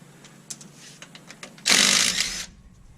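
A DeWalt impact wrench fitted with a 1/2-inch socket, working on a vehicle's rear end, gives one loud burst of rapid hammering lasting just under a second after some faint clicks and handling noise.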